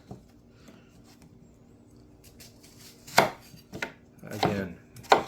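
A knife chops through an onion in a few sharp, separate strikes, from one single cut to a quick cluster of cuts, with quiet pauses between them, the blade from a bushcraft-style kitchen knife series.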